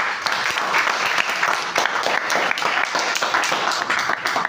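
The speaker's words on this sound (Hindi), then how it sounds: "मैं पुनः उस बाप के लिए जोरदार ताली बजाइए" Loud, dense applause from a large audience fills the hall for a proud father, steady clapping with no break from start to finish.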